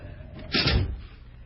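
A door opens in a horror video game, one short creak or scrape rising to a brief peak midway through a quiet moment, heard alone.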